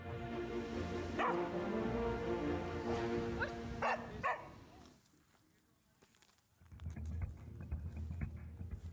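A highly trained explosives sniffer dog barks and yips in a few sharp bursts amid steady background noise, with voices and a tonal hum at times.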